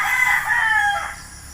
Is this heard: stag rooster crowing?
yes